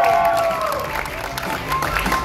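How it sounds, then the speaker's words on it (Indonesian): An audience claps steadily for Mas Burkon at an indoor public Q&A event, a dense crowd patter with a faint tone running through at the start. "Tepuk tangan yang meriah buat Mas Burkon"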